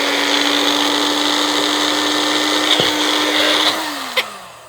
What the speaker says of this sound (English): let's just give her a quick chop in the Ninja